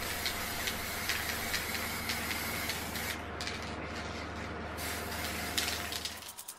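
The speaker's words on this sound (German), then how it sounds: "Im Nachgang sprühe ich jetzt noch eine dünne Schicht Klarlack." A spray can hisses steadily as a thin coat of clear lacquer goes onto a CNC-cut lettering piece, a continuous, fairly faint spray that holds for several seconds before tapering off at the end.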